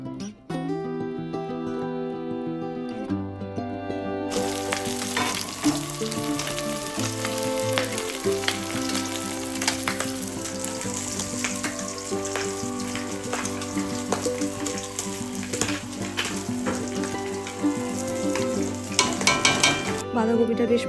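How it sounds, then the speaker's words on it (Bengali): Shredded cabbage stir-fried in a pan with a continuous loud sizzle, with repeated scraping and stirring strokes close by and a few light clinks of utensil on metal, no voices. "এইবার ভালো করে নাড়াচাড়া করে কষাতে হবে, যতক্ষণ না এই জিনিসটা আরও অল্প হয়ে যাচ্ছে।"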